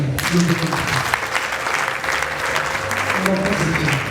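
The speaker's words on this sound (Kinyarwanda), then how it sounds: "mubanze mwiha amashyi" Guests at a wedding reception clap in sustained applause, with voices mixed in over the clapping.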